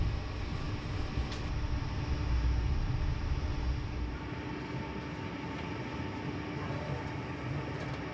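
Portuguese Intercidades passenger train rumbling along between Lisbon and Faro, a steady low interior roll and hum that eases slightly partway through, no voices.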